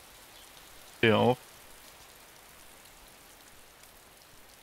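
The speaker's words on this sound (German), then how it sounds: "Es regnet." Steady, faint rain hiss from the video game DayZ runs through the whole stretch, with a short spoken phrase briefly over it near the start.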